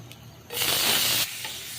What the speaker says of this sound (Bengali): এখন আমি চিংড়ি মাছগুলো দিয়ে দিচ্ছি